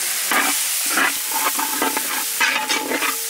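Ginger garlic paste frying in a pan for a village-style mutton curry, a steady sizzle broken by repeated scraping stirs of a spoon against the pan, close and fairly loud with no voices.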